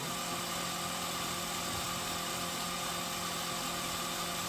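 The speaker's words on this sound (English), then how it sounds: "I'm letting the drill bit do the work." A drill bit bores slowly into hard medical-grade steel with light pressure, giving a steady continuous high whine and grinding hum, close and even, with no talking.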